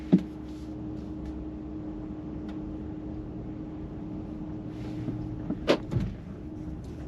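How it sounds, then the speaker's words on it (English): The door lock mechanism of a Jaguar E-Pace (X540) clunks inside a quiet cabin, a short sharp actuation near the start and another louder double clack later, over a low steady hum. "That was the only thing loud in this car, was that lock mechanism"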